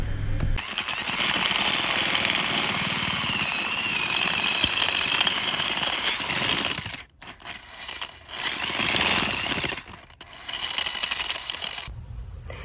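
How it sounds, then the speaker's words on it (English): A power drill with a diamond bit grinds loudly and continuously, enlarging a hole through wood, cutting out briefly twice before whining back up again. "we are now going to enlarge the hole through the wood"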